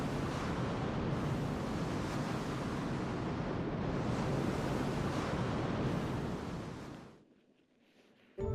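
Rushing water in a Final Fantasy 2 Pixel Remaster cutscene in the Mysidia Cave, a loud continuous broadband roar and wash that holds steady for about seven seconds, then fades and cuts off.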